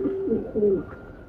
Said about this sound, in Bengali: এটাও একটি গোলালাল কবুতর